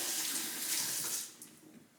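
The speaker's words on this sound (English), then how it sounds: "I'm just going to rinse my hands for a second." A kitchen tap runs in a steady, close rush as hands are rinsed beneath it, then it shuts off and a few small drips and splashes follow.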